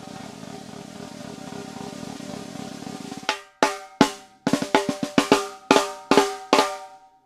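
A snare drum with its top head tuned one turn per lug is struck in a series of sharp, ringing hits, some quick doubles, following a stretch of low rumbling noise.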